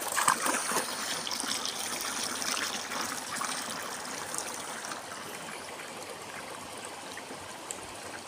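Water runs steadily into a water lily pond, a continuous close trickling and splashing flow with no voices.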